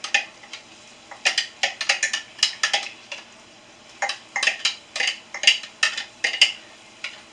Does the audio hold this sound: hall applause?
no